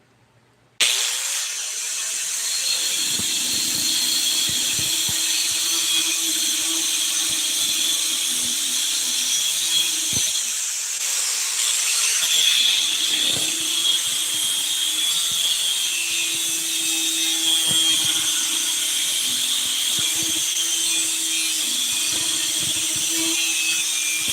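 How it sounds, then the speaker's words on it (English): Power sander shaping a black palm wood knife handle, a loud continuous high whine starting after a brief silence and running steadily throughout, with the pitch and grinding texture shifting as the tool presses against the wood. "And then we're going to sand it down a little bit."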